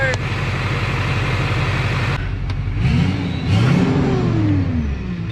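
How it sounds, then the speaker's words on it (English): A Chevy LBZ Duramax diesel with a faulty power steering, run with no power steering fluid, rumbles loudly up close. Wavering whines and groans rise and fall over the engine's drone. "Power steering sounds wicked on this thing in a very bad way."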